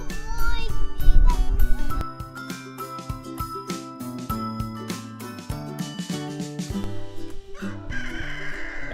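Chickens clucking and a rooster crowing in a garden yard, heard in bursts close by alongside a steady melodic tinkling background, with busier, louder activity during the first two seconds.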